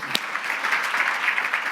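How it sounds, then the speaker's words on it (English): Audience applause for a speaker at a marketing talk, steady dense clapping throughout at moderate distance, with no voices over it. "Let's give him another round of applause."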